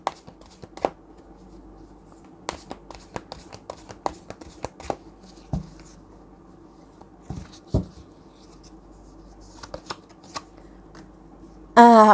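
Tarot cards being shuffled by hand, giving a run of crisp, irregular riffles and taps close up over a quiet background for several seconds, with a short burst of other sound at the very end.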